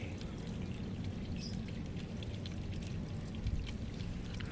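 Water pours steadily from a tap filter in a continuous, fairly quiet stream with no talking.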